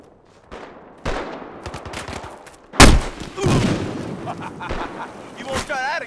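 Gunfire from an FN FAL battle rifle in the game Battlefield Hardline, with sharp shots and bursts scattered across the clip, one especially loud blast near the middle, amid other battle noise and voices.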